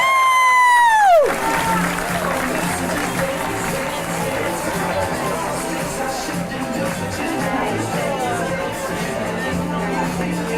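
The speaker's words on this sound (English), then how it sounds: "Let's give one more round of applause for Team Elementary." After a falling musical tone cuts off, a teacher-of-the-year banquet crowd erupts into continuous applause and cheering, with shouting voices mixed into a loud, even roar that carries through to the end.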